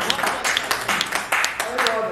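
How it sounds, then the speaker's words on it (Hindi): Audience applause for a poet at a Hindi poetry gathering, a dense burst of clapping swelling and fading in waves with crowd noise and voices mixed in. "तो जोरदार तालियां बजाकर भाई प्रदीप महाजन"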